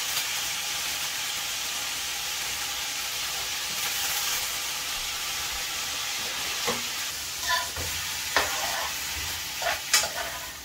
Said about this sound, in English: You hear that sizzling, guys? That means it's good. The oil is nice and hot.